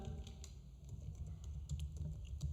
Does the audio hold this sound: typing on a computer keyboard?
yes